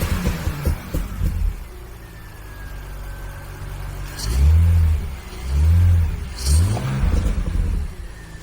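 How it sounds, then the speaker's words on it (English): A BMW E46 runs after a faulty cylinder-five coil pack is replaced, idling evenly and close before three short, loud revs rise and fall in quick succession. "Look at that car now. It's idling smoothly."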